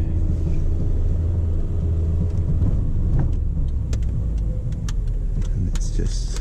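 A 2008 Honda Jazz Sport pulling away in first gear from a car park, with a deep, steady engine rumble and road noise heard from inside the cabin, loud and continuous.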